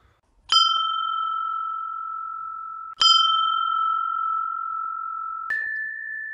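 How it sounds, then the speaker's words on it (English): Three clear, piercing bell strikes spaced a few seconds apart, each ringing on with a long sustained tone; the last strike lands higher in pitch. "it is for you that the bell tolls"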